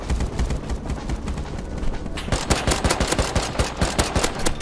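Rapid volleys of rockets launched from an attack helicopter in the survival game Rust, loud and close, a dense burst of sharp blasts that swells into a thicker barrage partway through, with no talk.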